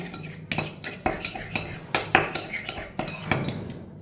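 A spoon stirs tomato sauce and chili flakes in a bowl, giving a series of close, light metallic clinks and scrapes at a steady, unhurried rhythm.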